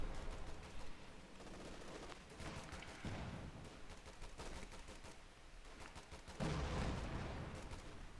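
Gunfire and rifle grenade explosions in a World War II strategy video game, with dense overlapping bursts of shots and booms throughout and a heavier blast late on.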